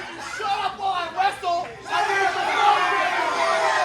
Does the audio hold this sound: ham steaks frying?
no